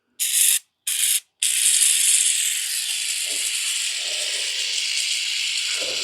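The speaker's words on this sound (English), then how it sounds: "spray this down this track just to get a little bit of lube going in here" An aerosol can of lubricant sprays onto a garage door track in two quick short bursts, then one long continuous hissing spray, close and loud.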